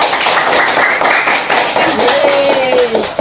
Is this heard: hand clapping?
yes